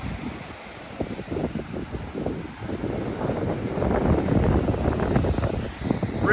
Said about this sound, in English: It's a little breezy.